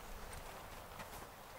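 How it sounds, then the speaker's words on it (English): A dressage horse's hooves clip-clop in a quiet, even walking rhythm, faint and somewhat distant, with no talk over them. "it's still not all discipline and control between Lynn and her horse"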